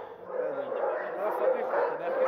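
Several military unit dogs yip and whine together nearby in a kennel, a continuous excited chorus of high barks and whimpers.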